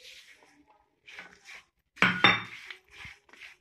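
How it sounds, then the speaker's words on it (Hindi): Fried dry fruits are stirred together in a pan, with scattered scraping and rustling, then a sharp double clink of a spoon on metal in the middle, followed by a few softer scrapes. "फ्राई किए हुए सारे ड्राई फ्रूट्स, मिक्स करते जाएंगे।"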